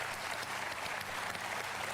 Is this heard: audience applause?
yes